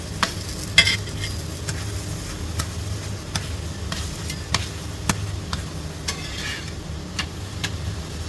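Rotti cooks on a pan with a faint, steady sizzle running throughout, broken by scattered light clicks and taps of utensils, with no voices.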